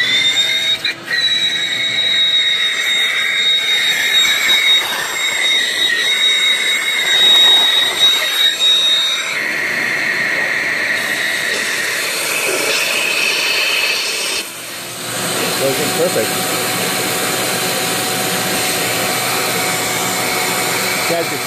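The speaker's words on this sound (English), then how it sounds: "Okay, here we go. Turning on the vacuum." A vacuum runs in a garage while GY6 scooter brakes are bled, giving a loud continuous whine with steady high tones that shift in pitch partway through, with brief changes as the load varies.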